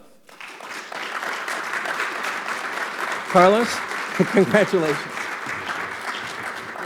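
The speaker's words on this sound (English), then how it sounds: "Please join me in welcoming a warm applause for Carlos Torriella." An awards-ceremony audience claps for a winner, a steady wash of applause that rises and continues throughout, with someone speaking briefly over it midway.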